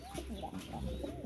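Large breeder pigeons in a home loft coo in soft, repeated low murmurs, close by and continuous, with someone talking over them.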